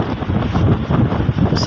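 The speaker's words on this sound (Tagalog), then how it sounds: "Lakas ng hangin." Strong wind buffets the microphone in loud, rumbling gusts at sea, with water and a boat faintly beneath and a brief voice mixed in.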